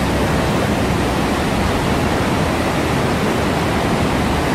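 A small waterfall at the Baume-les-Messieurs cascades in the Jura, France, gives off a steady, loud, broadband rush of falling water that stays constant throughout with no voices.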